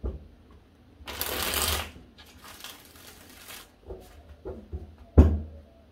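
Tarot cards being shuffled by hand, two long riffling bursts followed by soft taps and a sharp knock as the deck is squared, quiet and close.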